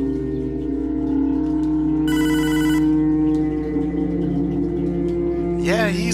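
A phone rings once in Hotline Miami 2, a brief electronic trill over a heavy, humming synth score, followed by a short warbling sound near the end.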